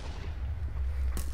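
A single distant boom rolls out in the video game Minecraft, a muffled thud over a low, steady rumble, faint and brief near the end.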